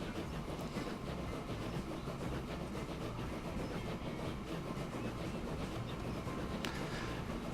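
A locomotive, the General, hauls a train along rails in Transport Fever with a Real USA setting, giving a steady, continuous rumble and clatter of wheels on track throughout, with no voices.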